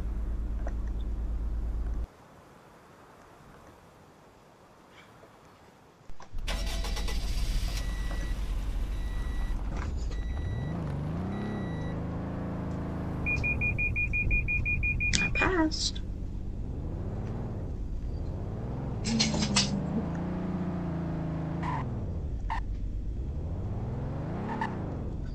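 A 2021 Toyota Sienna XSE minivan accelerating hard, engine rising through repeated gear-shift sweeps, close and loud, with brief beeps and a voice at times over it.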